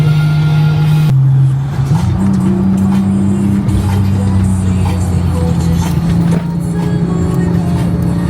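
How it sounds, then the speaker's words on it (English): A BMW E46 engine holds steady high revs against the rev limiter, a loud sustained drone with slight pitch steps and a brief dip, close and continuous throughout. "Look at my rev limiter"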